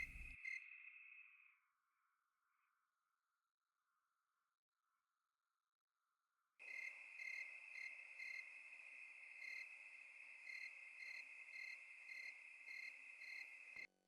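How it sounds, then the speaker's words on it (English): Loud, continuous cricket chirping fades to near silence, then returns abruptly as a dense, steady insect chorus. "I kind of like the crickets. Now, they are obviously really loud"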